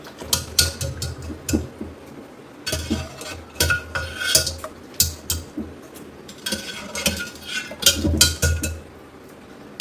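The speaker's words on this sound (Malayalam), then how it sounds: "ഒരു ലോഡ് പാത്രം ഉണ്ട് എനിക്ക് കഴുകാൻ വേണ്ടി" A big load of dishes, pots and pans being washed in a home kitchen: steady, close clinking and clattering of metal and glass that keeps going throughout, with no talking.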